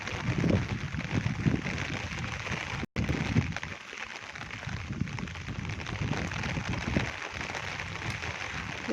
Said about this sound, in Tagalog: Umuulan, biruin mo ba naman?